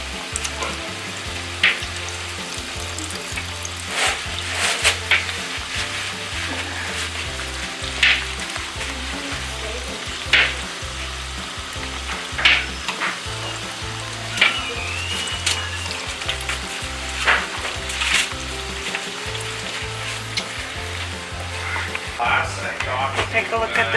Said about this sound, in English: take a look at the chili and we'll just stir it around a little bit